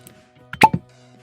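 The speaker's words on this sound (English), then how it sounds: "See the good cork pop here." A cork pulls free from a Yellowstone 2022 Limited Edition bourbon bottle with a single brief, hollow pop midway through, near and moderately loud against quiet surroundings.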